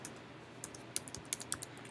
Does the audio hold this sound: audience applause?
no